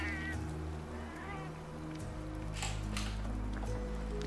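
A cat meows inside the Monster Hunter World Iceborne video game, a few short rising calls heard early, under steady game music with a brief swell of other effects later.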